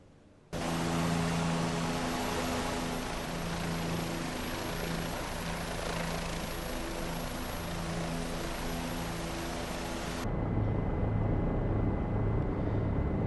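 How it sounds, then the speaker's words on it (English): A simulated Bell Jet Ranger helicopter in X-Plane 11 makes a flyby, its rotor and turbine producing a loud, steady throbbing drone for about ten seconds before the sound shifts to a quieter pulsing hum. "And that is exactly what a Bell Jet Ranger sounds like."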